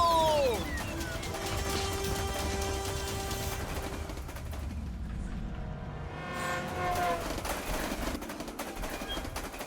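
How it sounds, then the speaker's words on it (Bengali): A cartoon train runs along its track with a loud, continuous rumble and rattle, steady horn-like tones sliding through the mix throughout. "ট্রেনটাকে থামাবো কিভাবে সামনের থেকে তো আরেকটা ট্রেন আসছে"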